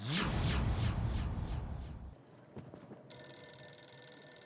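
A phone rings in a quick repeated trill, then fades into quieter clicks before a steady electronic tone begins.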